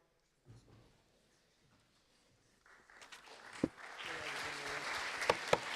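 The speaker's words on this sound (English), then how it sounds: "Delegates, please only clap after the speech." Delegates at a Model United Nations General Assembly opening ceremony break into scattered clapping that swells into a steady wash of applause in the hall after a near-silent start, with a few sharp claps standing out.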